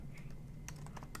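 Quick keystrokes on a computer keyboard, a short run of light irregular clicks over a steady low background hum.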